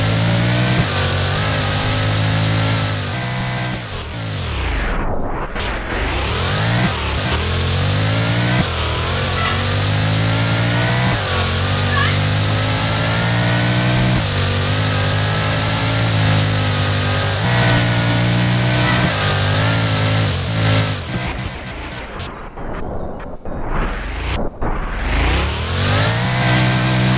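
Car engine in the video game Vehicle Legends revs loudly and steadily, rising and falling in pitch through repeated accelerations and gear shifts, a continuous mid-toned drone.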